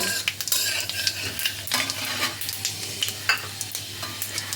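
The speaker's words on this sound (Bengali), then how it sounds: "ফোড়নগুলো দিয়ে কয়েক সেকেন্ড তেলের মধ্যে নাড়াচাড়া করে নেব।" Dried red chili, bay leaf and Bengali five-spice seeds sizzle in hot oil while a metal spatula stirs and scrapes the pan in quick irregular strokes, close and clear.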